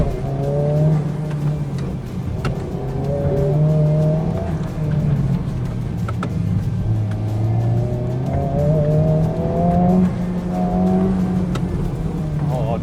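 A modified Honda Civic Type R accelerating hard on a race track during a club track day, its engine droning loud and steady with rising and falling pitch through gear changes, close by, with some talk over it.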